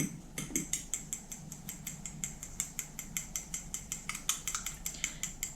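Rapid, steady clinking of a utensil against a bowl as eggs are whisked with salt and sugar, a quick metallic tapping rhythm close by with no talking.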